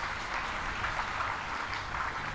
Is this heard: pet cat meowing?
no